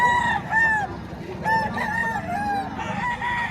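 Roosters crow repeatedly at a chicken market in Batangas, several loud overlapping calls with clucking fowl close by and a faint voice underneath.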